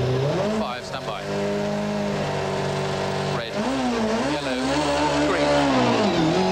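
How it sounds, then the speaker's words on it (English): A Ford rally car's engine roars loud and close as it accelerates hard into a rally stage, its pitch climbing and shifting through gears with a steady, sustained drone. "Enzo's right foot hits the floorboards and the Ford leaps forward into stage 6."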